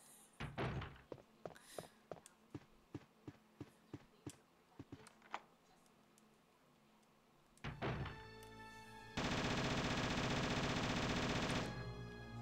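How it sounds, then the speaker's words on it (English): The minigun in the 1996 Resident Evil game opens up: a run of evenly spaced heavy thunks comes first, then a dense, loud, sustained buzzing roar of rapid fire that holds for a few seconds before cutting off abruptly. "Oh, I love this minigun."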